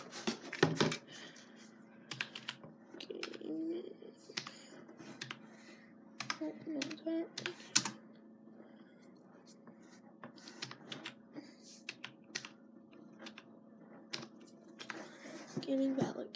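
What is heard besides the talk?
typing on a gaming backlit keyboard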